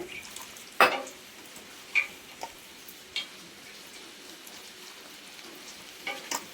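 Chilli bajji batter being mixed by hand in a bowl: quiet, scattered wet slaps and squelches with a few sharper knocks, sparse and irregular against a faint background.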